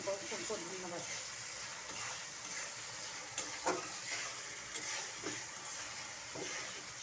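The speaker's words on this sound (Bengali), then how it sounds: "তেলের বলক চলে আসছে।" Oil bubbling and sizzling in a pot while nehari cooks, a steady close frying hiss with occasional clicks of stirring, under a voice talking throughout.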